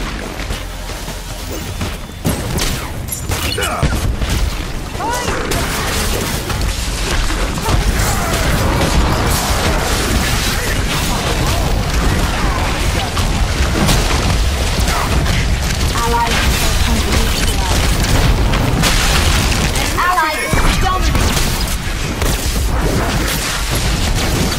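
Orbital cannon strikes in the video game Infinite Crisis, with heavy booming blasts and crashing debris rolling through a dense, continuous wall of game sound, a sharp impact near the twentieth second and voices mixed in underneath.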